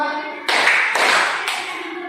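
A classroom of students claps together in short bursts, a few loud group claps following a spoken instruction, with voices heard before the clapping begins.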